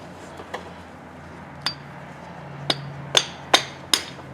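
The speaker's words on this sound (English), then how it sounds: "And take a little hammer." Sharp metallic taps of a small hammer on a motorcycle engine cylinder ring out one at a time, sparse at first then quicker, close by over a low background hum.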